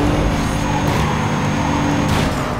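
Mitsubishi Eclipse GT racing in the video game NFS Carbon, a loud turbo engine roar with short hissing bursts of the blow-off valve venting between throttle lifts.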